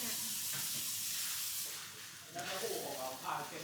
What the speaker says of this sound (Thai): ใส่ลงไปเลย เอาผัดไปเลย